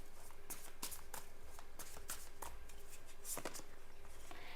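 Tarot cards handled and shuffled close by: a quick series of crisp riffling flicks and soft slaps of the deck, steady and fairly quiet, with no talking.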